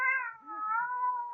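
A cat gives one drawn-out, tonal meow as a radio drama sound effect. It is clear and close, holds a steady pitch, and ends with a brief rustle.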